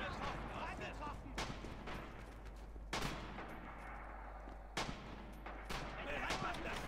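In the Red Orchestra 2 video game, gunfire crackles as scattered shots and bursts, some sharp and close, others rattling like machine-gun fire, while voices shout in the background.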